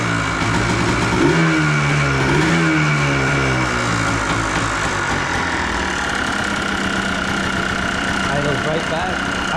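A Yamaha Blaster ATV engine runs loud and close, revving in rising and falling pulls before settling back to a steady idle, with a voice speaking over it.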